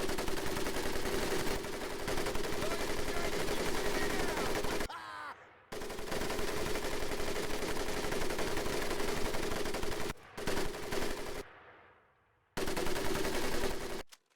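Sustained machine gun fire in a Medal of Honor Pacific Assault boot camp drill, loud continuous bursts running for long stretches with brief pauses and one longer silent gap, near and dominant.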